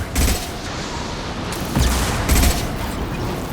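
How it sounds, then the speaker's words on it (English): Flashbang grenades go off in the Mass Effect 2 video game: a few loud bursts and thumps at irregular intervals over a continuous roar of game noise, with no speech. "Watch out, flashbangs!"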